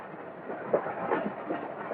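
A train rolls into a railway station with a steady, muffled rumble and faint clickety-clack of the carriages, continuous and fairly close with no voices over it.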